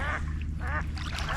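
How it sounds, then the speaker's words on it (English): Two or three quacks from mallards on a river, moderately loud, over a steady low wash of water or boat noise, with no voices. "Sounds like mallards."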